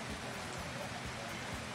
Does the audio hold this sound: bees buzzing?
no